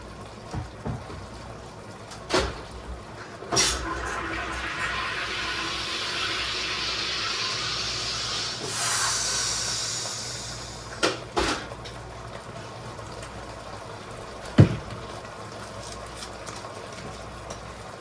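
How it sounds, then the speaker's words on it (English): A SodaStream machine carbonates water at home, a loud hissing burst of gas rising in the middle of the stretch, framed by sharp clicks and clunks of the bottle and lever before and after. "I do the soda stream thingy."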